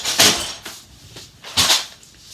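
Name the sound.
drawer of glasses being opened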